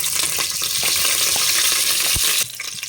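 Cumin seeds and curry leaves sizzling loudly in hot oil in a pressure cooker, a dense continuous crackle with a few stirring knocks, easing slightly near the end.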